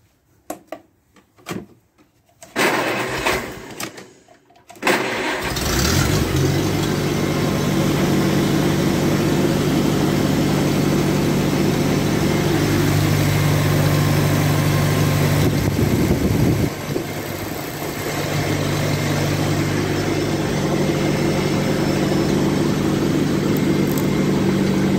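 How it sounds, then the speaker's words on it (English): A 1953 Farmall Cub tractor engine runs with the negative battery cable pulled off the post. A few clunks and a cranking start give way to a steady, loud idle with a deep hum, which dips briefly once before running on. "Can it run the tractor with pulling the negative battery cable off the post?"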